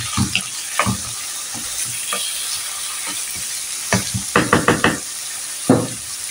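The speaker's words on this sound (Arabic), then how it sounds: "نجيب عندي صدر نتاع الدجاج، نصف صدر تاع الدجاج. فوالا نديرو يتقلى مع البصل." Half a chicken breast fries with softened onion in a pan, a steady close sizzle broken by clattering stirs and knocks of a utensil against the pan, with a burst of quick scraping strokes near the end.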